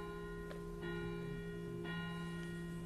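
The medium-large bell, number 2 of the Vézelise church, is struck a few times in quick succession, each clang blooming into a long, sustained, humming ring that carries through the whole short stretch.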